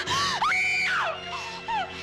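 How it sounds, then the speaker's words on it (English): A woman screams in a long, loud, wavering cry that rises, holds high, dips and breaks into shorter shrieks over about two seconds, with no talk around it. "You must not scream."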